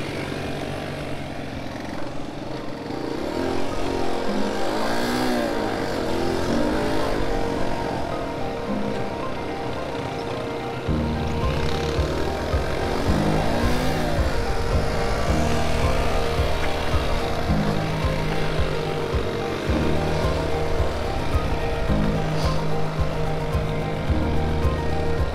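A motorcycle engine drones steadily at close range through a cornering phase on a riding course, its pitch shifting gently as the bike leans and holds speed, with wind noise throughout and no talk.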